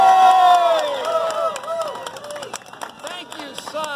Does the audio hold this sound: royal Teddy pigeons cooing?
no